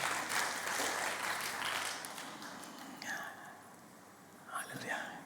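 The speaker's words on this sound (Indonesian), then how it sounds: "Tepuk tangan Tuhan Yesus." Congregation applause during an Indonesian church worship service, a dense wash of clapping that fades midway into quieter crowd murmur and whispering, with a short burst of voices near the end.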